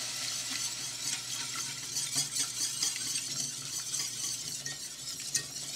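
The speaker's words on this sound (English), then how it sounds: "now we're going to add in first just 1 cup of milk and whisk it vigorously" Milk whisked into a roux for bechamel sauce in a pan, a steady fast scraping swish with light metallic ticks and a faint simmering hiss, continuous and fairly soft.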